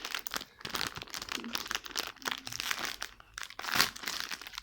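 A plastic wrapper is torn open on a Dora cake snack, giving close, crackly crinkling and rustling bursts in an irregular rhythm throughout, with no one talking.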